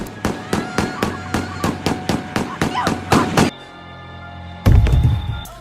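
A rapid series of about a dozen sharp pistol shots in a film, loud and evenly spaced, followed by a quieter lull and then a heavy booming impact.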